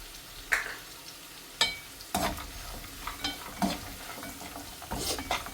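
Cashew nuts for dragon chicken frying in oil in a pan, stirred with a spatula that knocks and scrapes in irregular clacks over a low, steady sizzle.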